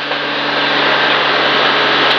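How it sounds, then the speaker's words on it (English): A wood drying tumbler at a wood-gas-powered sawmill, turned by a 24 volt windscreen wiper motor and fed hot air from an engine radiator and exhaust, gives a loud, steady mechanical whir and rush of air with no talk. "There's my drying tumbler."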